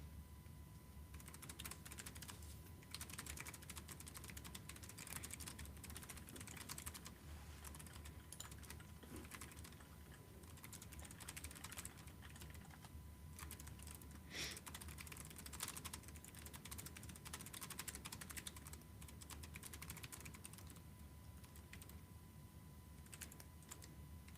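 Computer keyboard typing during a session of the text game AI Dungeon: a steady, continuous patter of fairly soft key clicks, heard alone without talk.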